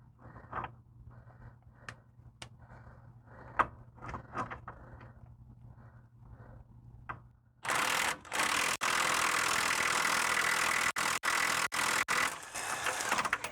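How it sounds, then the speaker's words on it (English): A ratchet with an extension and swivel socket works on a rear upper control arm bolt of a Ford Flex. Sparse clicks and creaks come first, then loud bursts of harsh mechanical rattling broken by short pauses. "with an extension and a universal or a swivel socket. And see if I can't get this on the nut or the bolt back here."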